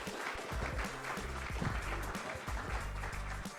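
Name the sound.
live audience applause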